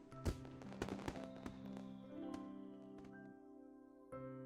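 Fireworks show at a school festival in the Katawa Shoujo visual novel: scattered sharp pops and bangs, a few crackling bursts early on, very faint and distant over a steady tonal music bed.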